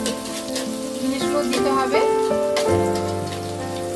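Finely chopped ginger frying in a pan for chilli chicken, a steady hiss of sizzling oil running under a woman's speech.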